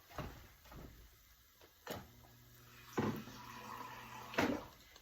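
A refrigerator in a home kitchen is opened for water while chicken tacos cook: quiet, with a few soft clunks and thumps of the door and handling spaced over several seconds.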